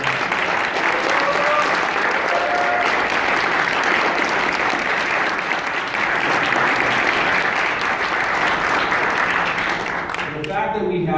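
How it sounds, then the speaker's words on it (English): Sustained loud applause from a large crowd at a political nomination victory speech, steady clapping throughout with a brief drop near the end. "they deserve a round of applause."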